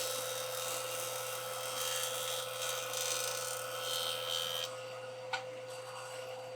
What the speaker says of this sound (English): So now we're going to go and joint one of the edges